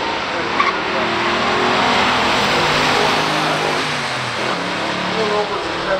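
Pure stock drag race between a 1970 Mustang Boss 302 and a 1978 Corvette special edition with a 350 engine: loud, steady engine roar with tire noise across the whole stretch, a voice talking faintly over it.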